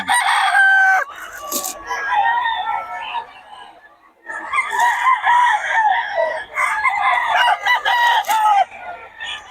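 Several roosters crow loudly and close by at a market in Bocaue on a rainy morning, their calls overlapping and repeating, with a short lull midway and faint clucking underneath.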